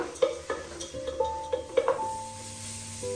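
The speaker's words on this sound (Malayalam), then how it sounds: "ഇതിലേക്ക് നമ്മൾ ഗ്രേറ്റ് ചെയ്ത് വെച്ചിട്ടുള്ള ക്യാരറ്റ് ഇട്ട് കൊടുക്കുകയാണ്" Grated carrot tipped into a pan and stirred, with a few sharp metallic clinks of a utensil against the pan over a soft background hiss, fairly close and without talk.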